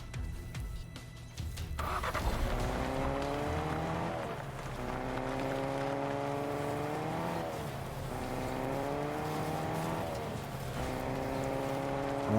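A car in a competitive video game drives with a steady, droning engine whose pitch climbs and falls across several gear shifts, loud and close throughout without talk.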